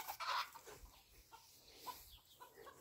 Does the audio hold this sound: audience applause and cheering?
no